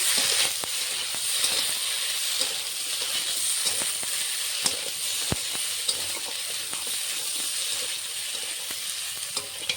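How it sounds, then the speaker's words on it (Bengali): Mixed vegetables with chilli and coriander powder sizzling in a pan for a thin hilsa curry, a steady close frying hiss broken by faint stirring clicks and occasional sharp pops. "সবজিটা আমি মশলা দিয়ে কষিয়ে নিচ্ছি ভালো করে।"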